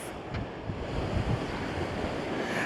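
Strong wind buffets the microphone on a seaside promenade, a continuous loud rumbling roar with surf-like wash beneath it and no pause.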